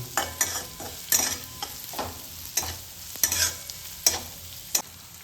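Onions and potatoes sauté in a pan for homemade pulao, with a continuous sizzle and about eight sharp spatula scrapes at an uneven rhythm, close up and without speech.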